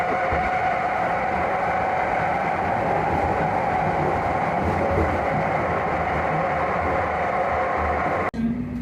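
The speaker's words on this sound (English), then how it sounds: "Here's the M4 train to Kadıköy." Interior rumble of an Istanbul M4 metro train running toward Kadıköy: a steady loud roar of wheels and motors throughout, then a brief sharp drop near the end.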